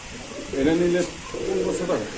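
Racer pigeons at a pigeon market giving low, throaty coos in two rolling bursts, close by, over a faint background hum.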